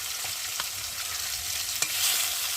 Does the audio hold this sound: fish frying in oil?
yes